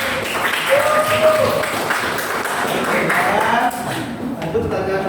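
Classroom audience of students applauding through a biology lesson, a steady patter of clapping mixed with voices and chatter, fairly near and continuous before thinning near the end.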